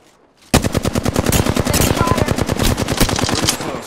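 Rapid automatic gunfire in a video game, a loud, close, continuous burst of evenly spaced shots lasting several seconds after a brief quiet start.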